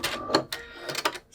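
A sewing machine stitching a quilt block: several short, close bursts of rapid mechanical stitching separated by brief pauses.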